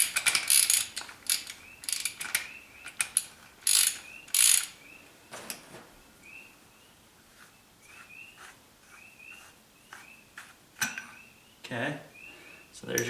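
A 19 mm wrench ratchets while loosening the fork cap on a Yamaha TW200, with close rapid clicking bursts and metallic clanks, followed by quieter intermittent ticks.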